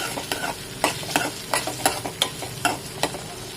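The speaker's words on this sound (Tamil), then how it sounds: "தக்காளி கொஞ்சம் நல்லா வதங்கட்டும்." Tomatoes sauté in a pan for a Tirunelveli-style egg curry, a soft steady sizzle broken by regular scraping strokes of a spoon stirring them, close and clear with no voices.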